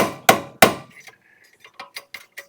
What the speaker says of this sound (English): we're going to do a little bit more hammering here